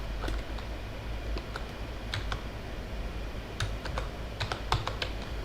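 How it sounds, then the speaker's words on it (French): Computer keyboard keys clicked in quick irregular bursts while playing Fortnite Battle Royale, including a screenshot key; close, crisp taps over a low steady background hum. "je vais faire toutes les touches avec le bouton avec capture d'écran là"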